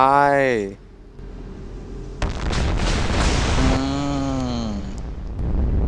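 Naval weapon fire and explosions in the Modern Warships game, a sustained roar of booming blasts with excited talk over the action throughout.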